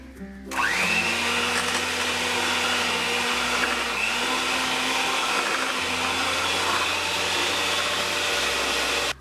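An electric hand beater whirs steadily as it whips papaya, condensed milk and whipping cream into an ice cream base, a loud, close, continuous motor hum with slight shifts in pitch as it works the mixture.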